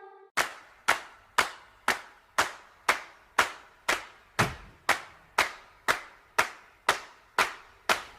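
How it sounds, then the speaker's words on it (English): Sharp percussive hits land in a steady, evenly spaced run of about fifteen, each decaying fast. They fit clapping or stomping in time with a children's rhyme about Umrah, and no voices sound over them. "Clap, stomp."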